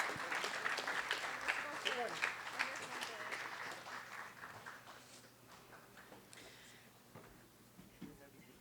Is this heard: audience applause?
yes